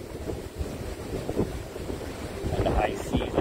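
Wind gusting across the open deck of the Celebrity Summit cruise ship at sea, a rough, buffeting rumble against the microphone that builds toward the end, with a voice speaking briefly over it.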